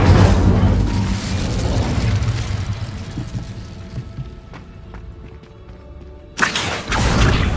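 An Incendio fire spell in a wizarding game erupts with a loud whooshing burst, then settles into a rumbling, crackling roar that fades before a second sharp flare near the end.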